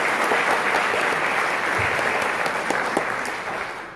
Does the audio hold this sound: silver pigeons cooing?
no